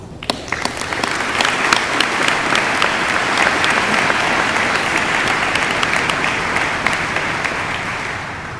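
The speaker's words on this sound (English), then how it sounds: "please accept my heartfelt applause" An audience at a Navy helicopter squadron change of command ceremony breaks into applause. Scattered first claps build quickly into a full, sustained ovation that eases slightly toward the end.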